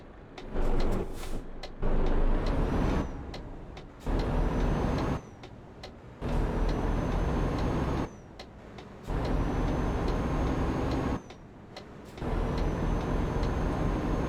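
Truck engine revving in Euro Truck Simulator 2, rising in repeated bursts of acceleration that cut off sharply between them, moderately loud and without talk.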